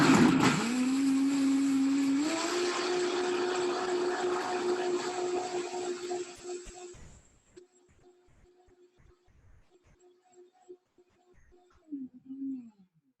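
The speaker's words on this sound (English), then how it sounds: "now all I'm gonna do is blend it up" Blender whirring loudly as it purees chunks of turmeric and ginger, a steady motor drone that steps up in pitch, then cuts off, leaving quiet handling noises and a brief sound near the end.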